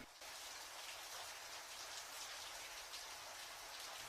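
Steady, dense patter of water dripping and splashing from a leak in an apartment, continuous and fairly close, with no voices.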